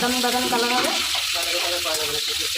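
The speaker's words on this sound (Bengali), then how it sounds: "ওই তেলে আমি দিয়ে দিলাম কাজু কিশমিশ তো কাজু কিশমিশটাকে আমি একটু হালকা করে ভেজে নেব" Cashews and raisins fry lightly in hot oil for fried rice, giving a steady soft sizzle and hiss throughout, partly masked by a voice or background tones.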